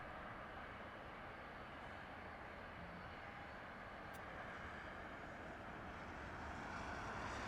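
An airliner taking off from runway 26 right at Las Vegas airport, heard as a faint, distant, steady broadband engine roar that swells slightly toward the end, with no voices.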